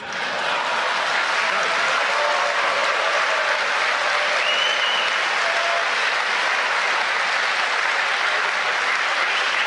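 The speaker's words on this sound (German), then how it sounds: "Die jetzt frenetisch klatschen" A large political audience claps frenetically, a dense, steady wall of loud applause sustained throughout with no pauses.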